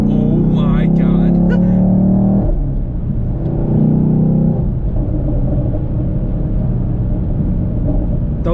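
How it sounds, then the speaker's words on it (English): A 2021 Camaro SS 1LE V8 on winding backroads, its exhaust a loud, close, steady rumble with a rising, revving tone early on, then settling into a deep continuous drone. "Those cracks and burbles are just the main thing I love about this car."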